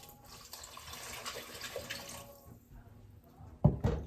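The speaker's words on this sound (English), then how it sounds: "let's put a little bit more water in that" Water runs faintly from a tap into a cooking pot for a few seconds, then stops, followed by a sharp clank of the pot near the end.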